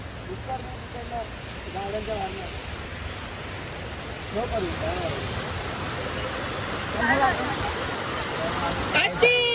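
Steady rain hisses continuously, with muffled voices talking faintly underneath and a brief clatter near the end.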